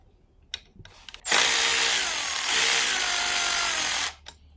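A power tool loosens bolts on a 2024 Beta 390 RR-S motorcycle, with a loud, close whirring burst of about three seconds after a few light clicks, then a brief dip and a sudden stop.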